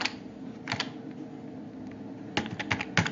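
Keys on a computer keyboard clatter in short clustered bursts of crisp taps, close by, with a quiet pause between the groups.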